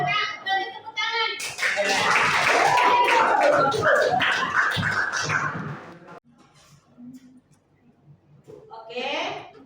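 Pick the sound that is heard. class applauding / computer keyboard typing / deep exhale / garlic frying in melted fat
class applauding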